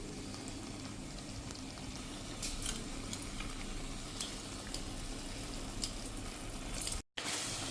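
Masala being stirred into a simmering bottle gourd curry, a steady sizzling bubble with soft scraping strokes throughout and a brief dropout near the end, no talking.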